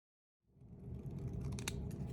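Close, quiet snipping of scissors trimming a piece of green paper for a Christmas advent tag begins after a brief silence and continues steadily to the end.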